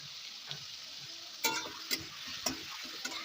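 Ridge gourd frying in a pan with salt and turmeric, a soft steady sizzle broken by a few sharp scraping clicks of a spatula as it is stirred, fairly faint and close, with no talking.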